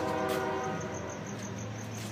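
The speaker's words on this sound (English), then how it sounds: "the sound of the trains at night would wake me up" A train passing at night, a loud, dense rumble with a horn-like sustained tone fading in the first half, plus faint insect chirps pulsing above, heard without talk.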